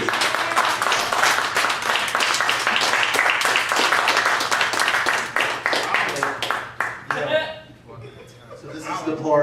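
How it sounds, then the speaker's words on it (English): At a documentary premiere Q&A, an audience gives the host a burst of loud, dense clapping that holds steady for several seconds, then thins into scattered claps and chuckles as voices come in. "I'll give a warm round of applause for our host, Hideous."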